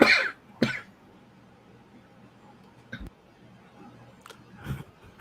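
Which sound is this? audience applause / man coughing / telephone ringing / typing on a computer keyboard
man coughing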